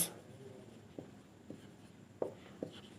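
A pen scratches out an algebra equation for a Class 8 linear-equations maths lesson, faint and close, with a few soft taps and strokes spread across a quiet room and no talking.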